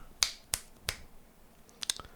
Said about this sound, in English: I'll just use the first clap